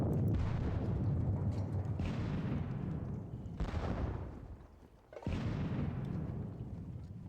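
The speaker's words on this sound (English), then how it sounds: "let's kick off with the artillery. Hit you. Hit you with a couple of batteries." Artillery batteries firing in a Napoleonic wargame video game, four deep booming blasts about one and a half seconds apart, each rolling into a long rumbling decay.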